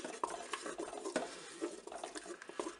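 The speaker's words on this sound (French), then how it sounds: "Je vais mélanger les deux chocolats, bien sûr." Melting chocolate pieces are stirred together in a pot, with a spoon scraping and tapping against the sides in an uneven rhythm, close and fairly quiet, with no voices.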